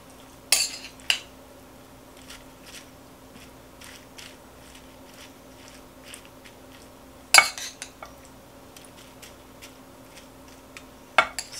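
Cabbage being layered into a buttered baking dish for scalloped cabbage, with a few sharp clinks of a utensil against the dish and soft scraping and shuffling in between, near and without talk.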